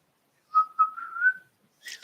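A short whistled melody, a few sustained notes rising slightly, heard alone in quiet before a brief rustle at the end.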